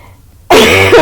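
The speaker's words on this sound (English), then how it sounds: "I almost made it through the whole video without coughing." A single sharp, harsh cough from a tired young woman bursts out loudly and close after a near-silent pause, with a throaty rasp.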